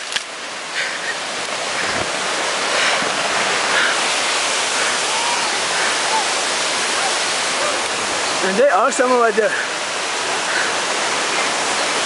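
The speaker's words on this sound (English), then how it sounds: "This is the waterfall." Hardin Canyon Falls on the Harding Truck Trail roars as a loud, steady rush of falling water close by. A person speaks briefly over it.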